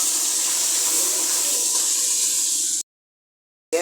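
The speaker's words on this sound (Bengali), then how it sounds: "একটু পানি দিয়ে দিলাম" Water poured into a pan of frying spice mixture of turmeric, chilli, cumin and garam masala makes a loud, continuous rushing hiss, then stops abruptly.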